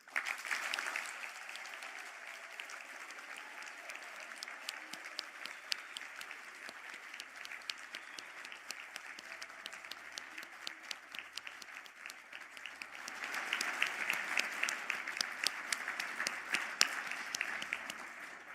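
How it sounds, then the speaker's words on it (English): Conferring ceremony audience applauds graduating public health nutrition honours students, a long steady spell of hall clapping that swells louder again toward the end, with no voices over it. "round of applause."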